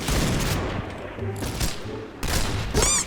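Rapid bursts of gunfire in the shooter game Point Blank, with dense volleys of shots at the start and again near the end and a quieter stretch between them. A voice is heard briefly in the middle.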